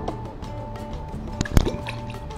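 Tea pours and dribbles with small drips and splashes, a louder splash near the end, over a low background hum.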